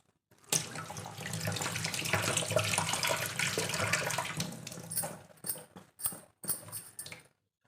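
Tulsi leaves rinsed under a running kitchen tap, a steady broad rush of water for about five seconds, then broken into short splashy bursts and pauses as the leaves are handled.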